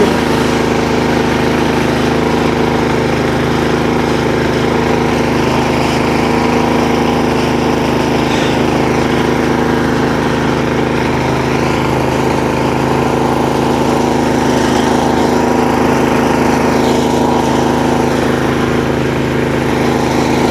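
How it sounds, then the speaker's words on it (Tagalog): A small engine with a carburetor warms up at a steady idle with no pauses, its even mechanical drone close and loud throughout. "Painitin natin ng konti yung makina, yung carburetor"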